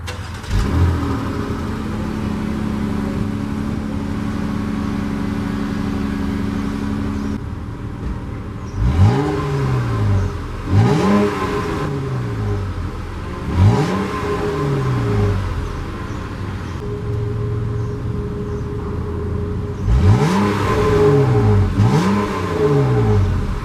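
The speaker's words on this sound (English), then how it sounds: "let me just give you guys a look at the exhaust" A 2019/2020 Jeep Cherokee with an 8-speed transmission idles steadily, then its exhaust is revved in several sharp bursts, each rising and falling back to a low rumble, loud and close with no talking.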